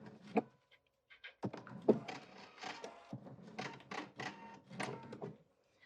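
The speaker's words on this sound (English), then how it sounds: "this is one time I can't talk and sew at the same time" A sewing machine stitches a child's faux leather crossbody bag in short bursts of mechanical chatter separated by brief pauses, close and moderately quiet, with no talking.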